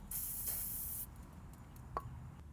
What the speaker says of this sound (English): This side is extremely rusted, so I'll use some penetrating oil there.